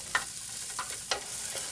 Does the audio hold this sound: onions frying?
yes